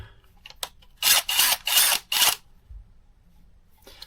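Craftsman 20V brushless cordless drill driver spinning up in four short, close whirring bursts one after another, with quiet pauses before and after and no talking.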